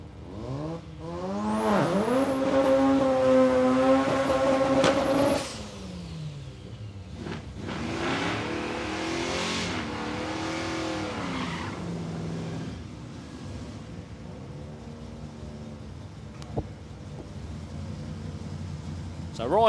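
Mazda MX-5 launching hard at a drag race at Palmyra Raceway, Australia, its engine note climbing through rising revs before fading away, followed by a more distant engine climbing and fading again.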